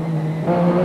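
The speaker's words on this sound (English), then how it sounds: "the Metro doesn't give much warning of its approach" A 1985 Austin Metro rally car approaches on a Trossachs Rally stage, its engine a brief, steady drone that rises slightly in pitch and loudness as it nears.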